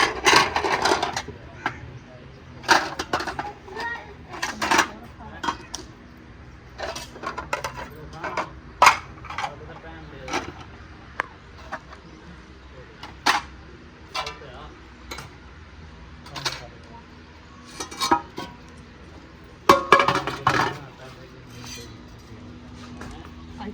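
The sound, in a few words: dishes and utensils being picked up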